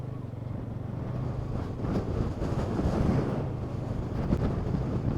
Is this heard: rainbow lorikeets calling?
no